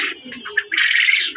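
A club-raced racing pigeon of a foreign bloodline calls close by in a few short bursts, then gives one longer, steadier call against a quiet background.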